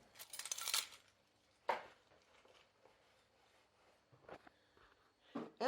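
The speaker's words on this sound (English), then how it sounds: "Put my keys away." A bunch of keys rattles and jingles with metallic clinks in an opening burst, then scattered handling knocks and small clacks follow, close and fairly quiet in a still room.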